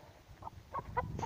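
A few short hen clucks, close by and fairly quiet, spaced irregularly over a second or so with low background rumble.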